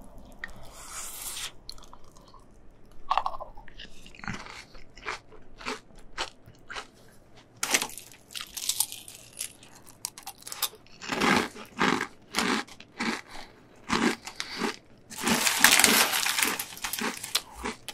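Crunchy chocolate green onion Checks cereal eaten up close, with sharp crisp bites and crackling crunches in irregular bursts, separated by quieter moist chewing and short pauses.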